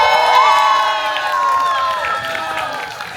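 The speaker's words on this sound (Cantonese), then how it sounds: "俾啲掌聲" Wedding guests cheer, whoop and clap at a lakeside wedding in Thailand, loud excited voices rising over applause and then easing slightly.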